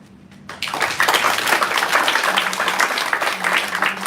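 Congregation clapping during a Sunday church service, starting after a quiet moment and swelling into a dense, lively round of applause that carries on steadily, with a faint low hum beneath.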